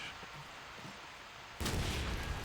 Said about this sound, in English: With a very good nade from Dudek.